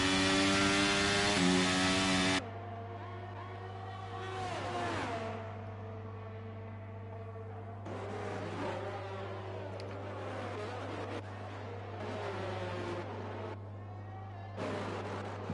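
Racing car engines in a sim racing video game on a Las Vegas street circuit whine and rev in harmonic tones. The pitch climbs and drops through gear changes across several passes, over a steady electrical hum.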